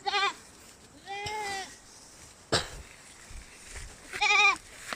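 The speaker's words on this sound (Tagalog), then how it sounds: "marami na tong kambing na ilagaan si Mader" Several goats bleat close by, with three distinct wavering calls spaced across a few seconds, separated by quieter rustling and a sharp knock.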